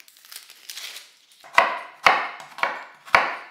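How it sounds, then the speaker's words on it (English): A knife chops through a red onion on a board, with soft slicing scrapes followed by four crisp, evenly spaced chops, close and clear with no talk. "Chop that through, roughly down the middle."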